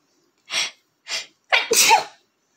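Three sneezes close by: two quick, sharp ones followed by a bigger, drawn-out explosive sneeze, then quiet.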